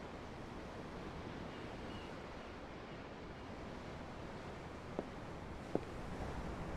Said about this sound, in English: I'm looking at the ocean.